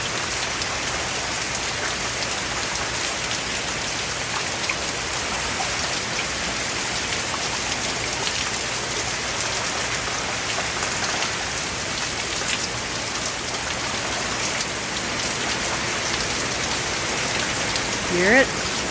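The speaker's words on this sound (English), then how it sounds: "It's a tree shaker." A tree shaker gives a continuous rain-like patter, dense and even like steady rainfall on a surface, close and sustained throughout, with a brief brighter rattle just before the end.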